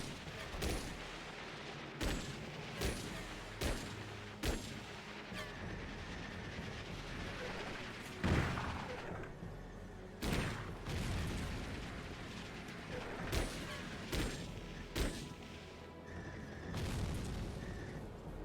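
Combat in the Chrome Hounds mech game: repeated sharp gunshot cracks and heavy booming blasts hit at irregular intervals over a constant rumbling, mechanical background, some bursts close and loud, others more distant.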